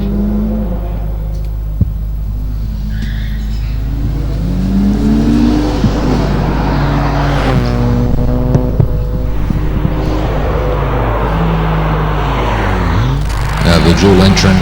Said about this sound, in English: The dual entrant car of Graham Fenton now making its way around the hairpin.